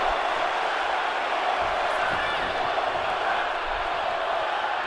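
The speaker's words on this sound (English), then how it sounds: "The crowd chanting one more time" Arena crowd noise from the WWE 2K25 wrestling video game, a steady dense roar of many voices filling the whole stretch with a faint chanting texture and no clear break.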